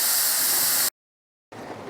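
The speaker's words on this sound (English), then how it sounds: "So it's the canner's in the steaming process, and you can see the steam coming out of that." Steam venting from a pressure canner during canning of no-cook salsa, a harsh, bright continuous hiss heard close up, cut off by a short dead gap and then resuming more softly.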